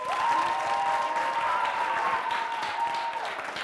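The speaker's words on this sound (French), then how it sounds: "Si vous avez kiffé, je demande bien plus d'applaudissements" A studio audience on a French-language TV show applauds in a steady, moderately loud wash of clapping, with a thin sustained tone running beneath it for most of the stretch.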